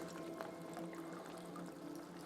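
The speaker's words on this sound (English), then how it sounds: "I'm going to add about 2 cups, 2 to 4-ish cups of vegetable broth" Vegetable broth poured into a pot of simmering Southwestern chili, a steady soft liquid pour running throughout at moderate distance with no talk.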